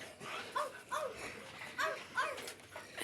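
A big dog gives several short, strained yelping barks in uneven pairs, fairly faint and somewhat distant, with a light background hiss.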